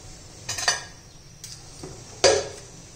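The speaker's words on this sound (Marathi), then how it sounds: "त्याला आता बटर लावून घेऊया आपण पुढे वरून" Butter being spread over a freshly cooked butter naan with a utensil, a few short scraping clinks spaced across the moment, close and fairly quiet with no talk.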